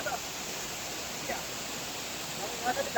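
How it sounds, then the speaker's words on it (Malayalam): A small waterfall at a hidden spot in Idukki, water dropping from a height, makes a steady broadband rush that fills the scene and holds at an even level throughout, with a few brief louder splashes near the end. "ഇതാണ് ആ വെള്ളച്ചാട്ടത്തിന്റെ ഫുള്ളായിട്ടുള്ള ഒരു ആംബിയൻസ് കേട്ടോ"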